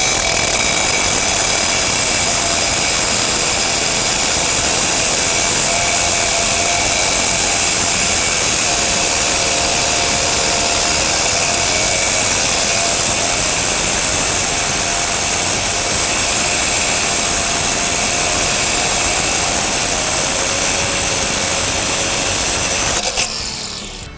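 An Hdii power cutter runs loud and steady for about 24 seconds with a high, continuous engine whine and grinding as it cuts through rock and rebar, then cuts off abruptly at the end.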